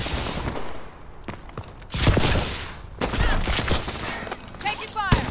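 Heavy gunfire in a Call of Duty: Advanced Warfare team deathmatch, with dense, loud bursts and volleys of automatic weapons firing in rapid succession, some close and some farther off, alongside game voice callouts.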